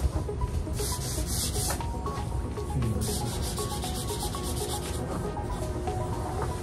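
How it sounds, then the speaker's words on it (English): Light hand sanding of wooden chairs with 300-grit sandpaper, a steady soft rubbing and scratching that continues without break at close range, with no voices. "Just a light sanding with a 300 grit."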